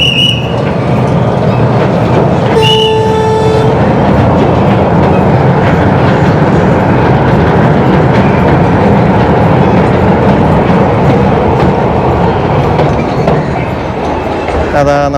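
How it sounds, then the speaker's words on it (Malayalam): Solar-powered miniature toy train at Veli Tourist Village passing by outdoors, a steady loud rumble and clatter of wheels on rail lasting throughout, with a brief whistle-like tone early on. "അതാ നമ്മുടെ ടോയ് ട്രെയിൻ പോകുന്നു."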